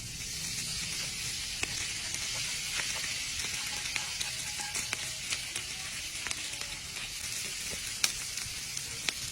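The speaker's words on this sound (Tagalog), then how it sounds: "Kapag mainit na yung sizzling plate, lagyan natin ito ng konting butter. At saka natin ilalagay yung ating chicken" Chicken sisig sizzles steadily on a hot buttered sizzling plate, a close, continuous bright hiss with scattered small pops and crackles throughout, no voices.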